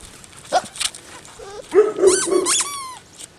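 Six-week-old Bernese Mountain Dog puppies let out high squeaky yips, whimpers and short barks, close by in a few quick bursts with quiet gaps between.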